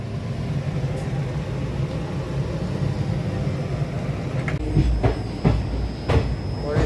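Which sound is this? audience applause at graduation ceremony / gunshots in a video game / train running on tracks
train running on tracks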